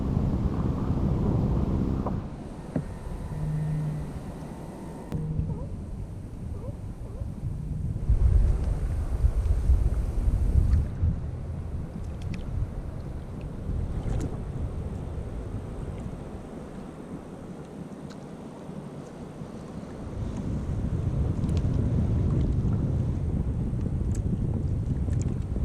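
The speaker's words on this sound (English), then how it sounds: "wind's picking up even more" Wind at sea buffets the microphone during kayak fishing off Avila Beach, California, in uneven gusts that rise and fall with a low roar of water, swelling louder toward the end.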